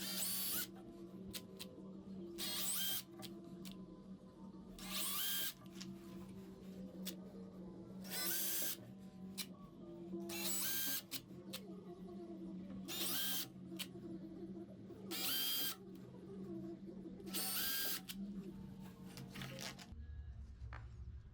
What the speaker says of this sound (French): Puis après, d'un coup, je perce tous les trous.